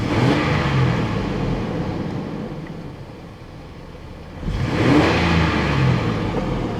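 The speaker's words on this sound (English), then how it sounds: "When I rev the engine" A Chevy S10 pickup engine with a bucking fault revs up twice in a shop, a loud engine surge at the start, dipping to a steady hum, then rising again in a second strong rev near the end.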